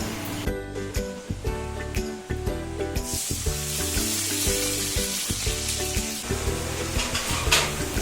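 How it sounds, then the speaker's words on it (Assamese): Onion, garlic, two chillies and black cumin frying together in a pan, a steady loud sizzle with frequent clatter of stirring throughout, no talk. "এই গোটেইখিনি একেলগতে ফ্ৰাই কৰি ল'ব।"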